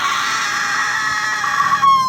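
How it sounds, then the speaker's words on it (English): A woman screams wildly at the top of her lungs in one sustained, piercing, loud cry that holds steady for about two seconds with no talk. "Like Amy, she started screaming wildly at the top of her lungs"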